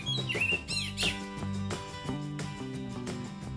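An oriental magpie-robin (kacer) sings bright, twisting chirps and whistles in the first second, then fades behind steady, rhythmic background music of low tones.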